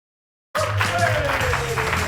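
Studio audience at a talk show breaks into sustained applause after a moment of silence, steady and fairly close, with tonal music or voices running underneath.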